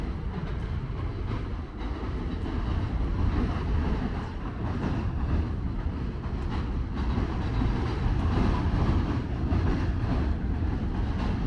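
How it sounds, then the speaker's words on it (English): A steady low rumble of a New York subway Q train rolling slowly along an elevated track near the Coney Island boardwalk in Brooklyn, continuous clattering and droning with no talking. "was a Q train chugging along really slow up there on that top track."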